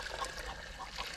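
Water poured from a bucket, a short, soft trickling splash that runs faintly for about a second.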